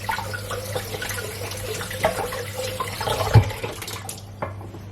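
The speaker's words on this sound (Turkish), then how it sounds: "Bir tane bıçak ve bir tane portakalımı güzelce bir yıkıyorum." An orange being washed under a running kitchen tap, a steady close splash and trickle of water with a few knocks and clatters near the end, no talk.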